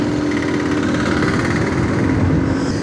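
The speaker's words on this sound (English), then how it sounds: "This is a TVS Wego, 110cc, 8 HP, and 6 Nm, I think, with automatic gearing." A TVS Wego 110cc automatic scooter engine drones steadily and loudly while riding in India, a continuous buzzing hum with wind noise and no break.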